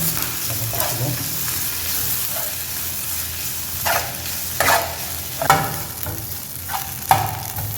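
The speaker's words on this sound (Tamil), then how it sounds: "மசாலா ஸோ மிக்ஸ் பண்ணிக்கலாம்." Chicken stuffing masala with green chillies stirred in a pan, a soft steady sizzle with several distinct scraping strokes of a spoon against the pan, near and alone.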